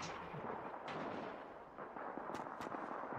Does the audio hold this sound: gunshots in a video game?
yes